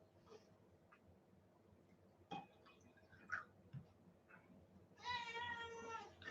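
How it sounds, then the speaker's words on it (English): Cat meowing indoors, a few faint short calls followed by a longer, louder drawn-out meow near the end, against a quiet room background. "That was a kind of sympathetic meow."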